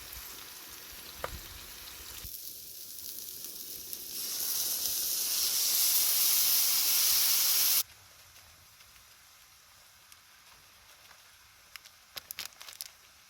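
Pork frying in a pan on a minivan camp stove, a steady hiss that swells into a loud, bright sizzle for a few seconds, then drops back to a quieter background crackle.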